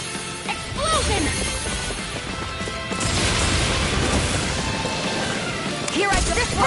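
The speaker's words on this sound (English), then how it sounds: "Explosion!" Explosion attack in Tales of Arise battle, a loud smashing crash amid busy combat noise with repeated impacts and bursts, under faint character voice shouts.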